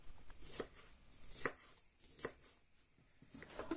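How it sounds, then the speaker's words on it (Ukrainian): Boiled jacket potatoes and boiled carrots rubbed against the finest side of a grater for a salad, giving a few rhythmic scraping strokes with quiet pauses between them, close and fairly soft. "Очищаю їх і натираю на саму маленьку тертку"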